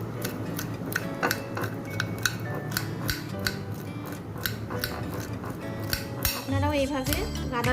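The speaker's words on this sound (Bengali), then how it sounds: "আমি একটা চামচের সাহায্যে গাদার অংশ থেকে কাটাটা বেছে নিচ্ছি" A metal spoon scrapes and clicks against chitol fish flesh while picking out bones, making rapid, repeated close ticks and scrapes with a brief louder clatter near the end.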